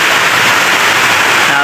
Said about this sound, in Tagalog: Ang lakas ng ulan dito sa bukid namin.